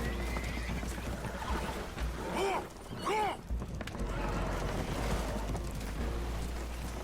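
Spooked horses aboard a damaged boat that is taking on water, neighing loudly in two distinct whinnies mid-clip over a constant low rumble of water and wind.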